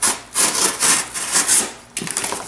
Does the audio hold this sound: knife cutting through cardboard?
yes